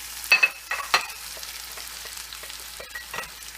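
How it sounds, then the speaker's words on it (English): Red onions sautéing in a pan for a quiche, a soft steady sizzle with a few sharp scrapes and clinks of stirring near the start, no voices. "And then I'm going to saute my red onions."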